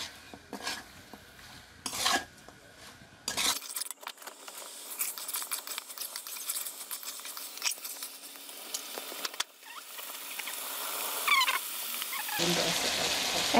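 Chicken pieces being mixed with spices in a pot for biryani: intermittent scraping and clinking of a spoon on the metal, with faint sizzling and abrupt changes in background noise.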